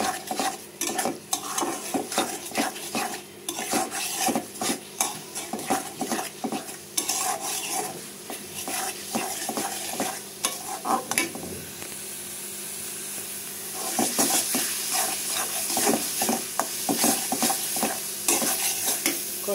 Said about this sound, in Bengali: এখন আমি কষাইয়ে ভালো করে শুটকিটা দিয়ে নেব।